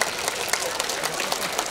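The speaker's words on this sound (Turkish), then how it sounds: "Çocuklar bir alkış yapalım." Children applauding at a school heritage volunteers event, a dense burst of clapping throughout, fairly close and steady, with some voices mixed in.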